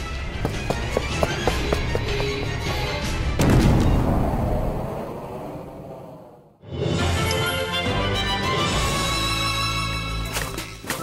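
Explosion in the Fairy Fencer F Advent Dark Force game, a rumbling boom that swells mid-clip and is set among running footsteps and game sound effects, then briefly drops away before more loud action resumes.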